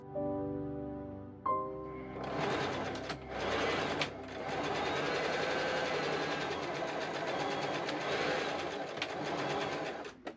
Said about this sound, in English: I sew the 2 strips together, right sides to right sides, with a 1-inch seam allowance.